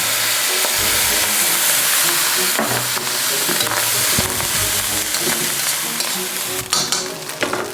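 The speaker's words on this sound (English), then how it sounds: "Then the soy sauce around the edge of the wok." Soy sauce sizzles loudly in a hot wok while prawn fried rice is stir-fried, a steady close frying hiss with scraping stirs and clatter throughout.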